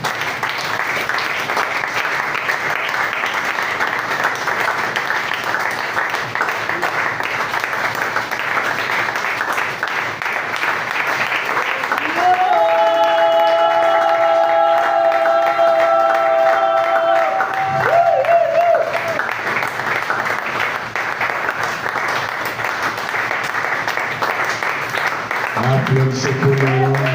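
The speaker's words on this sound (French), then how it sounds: "Applaudissons pour le Seigneur." A church congregation claps throughout, a steady wash of applause from many hands, while a voice calls out over it partway through.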